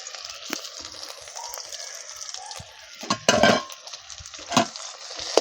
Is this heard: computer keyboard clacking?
no